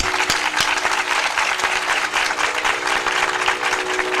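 An audience at a Navratri festival religious discourse claps, sustained dense applause from a large crowd at constant loudness, with a faint low hum underneath and no talk.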